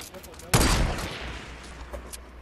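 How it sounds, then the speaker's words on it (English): A single sharp, loud gunshot in the Fortnite video game cracks out about half a second in, then rings and fades into a lingering low rumble, with quiet ambient noise around it. "I don't know from where they're shooting."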